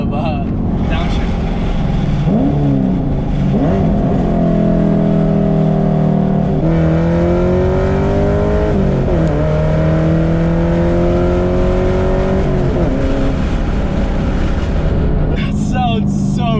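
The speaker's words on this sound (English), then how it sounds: "Get the windows down to hear a little bit of downshift." Chevrolet Camaro SS, a fifth-generation car built for track use, revving loudly through downshifts, the engine note rising and falling in repeated sweeps heard from inside the cabin with the windows down, with voices over it.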